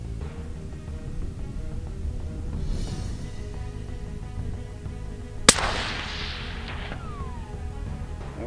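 A single sharp rifle shot cracks loudly mid-clip at a 300-yard range, its report trailing off into a fading echo, over faint outdoor background.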